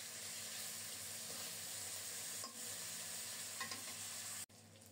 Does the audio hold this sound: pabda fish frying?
yes